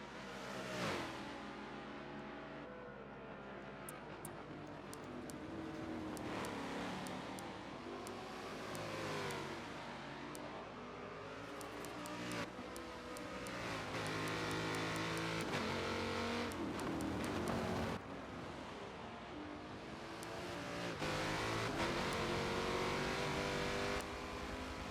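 Race cars at the 6 Hours of Road America endurance event, engines howling continuously with rising and falling revs as cars accelerate out of a corner and pass, loud and close for the whole stretch.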